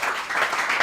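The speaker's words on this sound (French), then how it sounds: "magnifique applaudissement, c'est bon." A live show audience applauds on stage night in a brief, steady burst of many hands clapping at moderate loudness with no voices on top.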